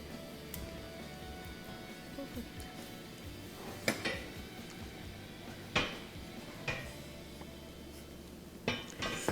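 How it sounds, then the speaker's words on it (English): A metal burner grate being set back onto a Wolf gas stove, giving a few sharp, distinct metallic clanks and clinks spaced several seconds apart, close and fairly quiet over a low background hum. "Put the burner grate back in position."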